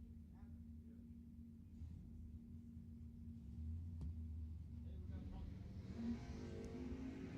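A dragster at Lebanon Valley Dragway, a low engine rumble that builds in the second half and stays distant, mostly under a commentator's voice.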